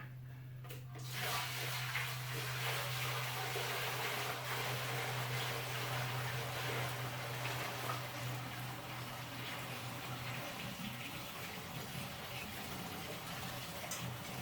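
Liquid pours steadily with a low gurgling fill that shifts tone as the container fills, fairly quiet and close, with no talking.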